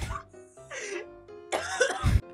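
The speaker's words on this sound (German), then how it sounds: "So wie ihr hust" Several coughs and throat clearings from people in a room, a few short bursts spread over a couple of seconds, the last one loudest and closest.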